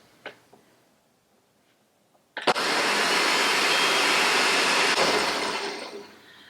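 An electric blender whirs up pozole ingredients with a little water: a few light knocks, then the motor kicks on loudly and runs steady for about four seconds before winding down.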